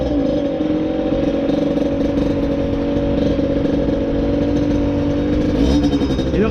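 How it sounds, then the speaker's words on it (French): A 50cc motorcycle in Annecy idles too high, a loud, close, steady buzzing drone that holds evenly and wavers slightly near the end, with no talking over it. "le ralenti est un peu trop haut"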